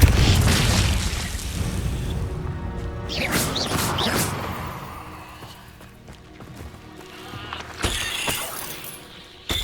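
Confringo blasting spell detonating in the Hogwarts Legacy video game, a loud booming explosion with a crashing, shattering tail, followed by further game effects and softer rumbles.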